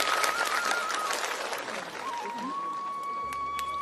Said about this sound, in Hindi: मैं आपकी तालियों से प्रसन्न नहीं होऊंगा।